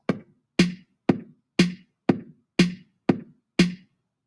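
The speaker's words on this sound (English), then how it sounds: "we've officially started our jingle by starting with drums" A looped drum beat plays alone: eight crisp, evenly spaced hits in a steady rhythm, each decaying quickly before the next.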